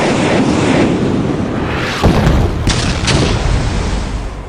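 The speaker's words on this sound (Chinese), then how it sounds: "水上爆炸威力如此。" A powerful explosion on the water, a loud sustained roaring blast with rumbling booms and sharp cracks throughout.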